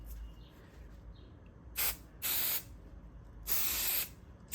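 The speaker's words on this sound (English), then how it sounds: "I'm just going to put some basting spray at the edge right here." Basting spray from an aerosol can is sprayed onto fabric for machine embroidery, three close, loud hissing bursts, the last one longest, with quiet pauses between them.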